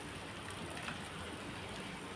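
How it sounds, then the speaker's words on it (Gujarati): Steady rain pours down evenly, a dense, constant hiss of drops hitting surfaces nearby with no other sounds. "આજે આપણે ફાઇનલી વરસાદ ચાલુ છે તમે પહેલાં જોઈ લ્યો"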